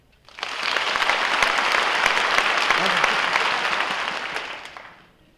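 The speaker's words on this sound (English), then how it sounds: "Clap if you've read the book." A large audience at a book festival bursts into applause, a dense, loud wave of clapping that swells quickly, holds steady for several seconds, then tapers off.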